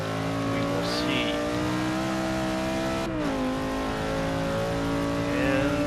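A 2011 Audi RS5 Coupe in the racing game Forza Motorsport 6 holds a sustained high engine drone with smooth pitch shifts and a brief gear-change dip, loud and constant throughout.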